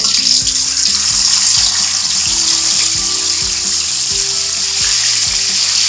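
Panch phoron five-spice seeds tempering in hot oil for a simple mixed vegetable dish, giving a steady, loud, hissing sizzle that runs unbroken throughout.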